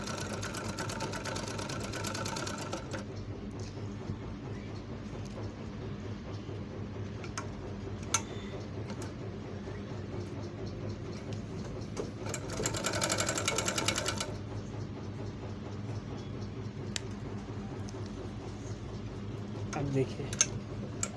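An overlock sewing machine running steadily with a fast mechanical ticking rhythm, with a couple of louder bursts of stitching, close by, and a voice speaking over it at times.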